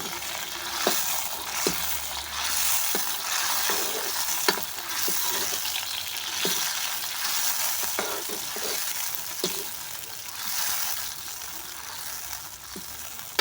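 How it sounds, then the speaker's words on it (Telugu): Tomato pieces for a large chicken curry fry in a pan over a wood-fired stove with a continuous bright sizzle, close and fairly loud, punctuated by regular scraping stirs and clicks of the spoon, with no voices. "ఒక కప్పు దాకా టమాటా ముక్కల్ని వేసి మనం వీటిని వేపుకోవాలి"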